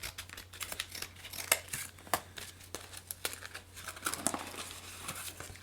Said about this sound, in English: I'm gonna have to cut it. I have scissors ready.